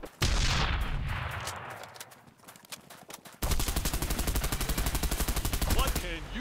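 Gatling gun fire in the video game Bullet Run: a long rapid burst of machine-gun shots, a pause with a fading tail, then another sustained rattling burst, loud and close.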